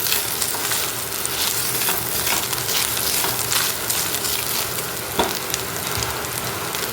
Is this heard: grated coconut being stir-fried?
yes